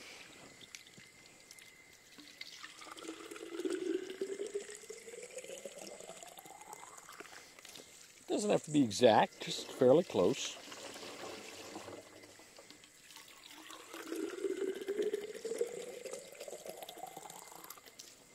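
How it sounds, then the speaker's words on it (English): Water poured into a plastic storage container in two separate runs, a gentle rising gurgle that fills the vessel, with a person speaking briefly between them. "I will put 2 quarts of water into this container."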